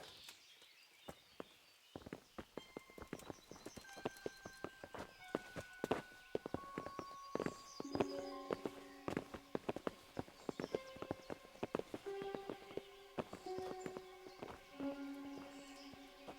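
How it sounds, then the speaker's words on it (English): Horse hooves clip-clop steadily on the ground in the medieval open-world game Kingdom Come: Deliverance, a moderate walking rhythm of hoofbeats layered over tonal background music with no voices. "Bring the horses."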